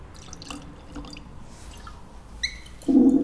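Chichibu Hanyu whisky is poured into a glass, with faint drips and small liquid sounds building to a brief louder splash of pouring at the end.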